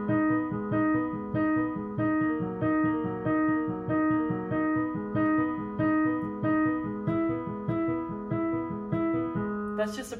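Piano playing at full speed, with a steady, flowing pattern of repeated broken-chord notes. The notes are close and clear, with an even rhythmic pulse that carries on without pause and no voices.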